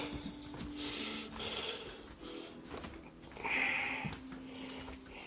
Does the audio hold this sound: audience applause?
no